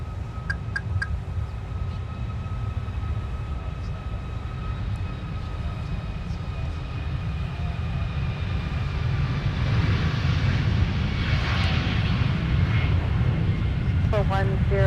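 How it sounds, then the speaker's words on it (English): Icelandair airliner departing runway 12 right at Minneapolis–Saint Paul airport, a distant steady jet engine roar that swells toward the end, with radio voices talking over it. "And then we have Iceland Air. Now departing runway 12 right."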